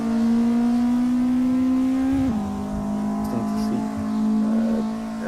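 A GTi Challenge race car engine holds a loud, steady high-revving drone flat out, briefly dipping in pitch as it shifts or lifts, then pulling hard again, close and continuous.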